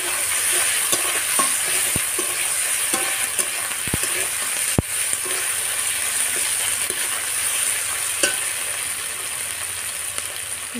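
Ginger garlic paste fries in a pan for a prawn and pointed gourd curry, giving a loud, steady hiss and sizzle with occasional sharp taps and scrapes from the stirring spoon, up close and without speech.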